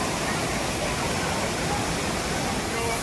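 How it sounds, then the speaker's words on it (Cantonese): Waterfall on the Ma Dai River, a rocky mountain stream, roaring as a steady, loud broadband rush of falling water that fills the whole stretch without a break. "呢個瀑布都唔錯嘅"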